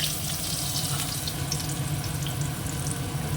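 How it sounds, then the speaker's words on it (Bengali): Potatoes fry in hot oil in a pan, a loud, dense, continuous sizzle that stays steady throughout with no voices. "আলুটা ভাজতে দিয়ে দিই।"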